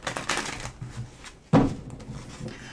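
Tarot cards riffle-shuffled by hand during a live reading, a soft papery flutter with one sharper burst of shuffling partway through, heard close and alone.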